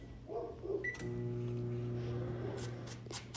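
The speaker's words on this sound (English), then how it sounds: "put the rice cauliflower in the microwave and get that ready" A microwave oven heating riced cauliflower hums steadily after a short beep, a low continuous drone filling the quiet room.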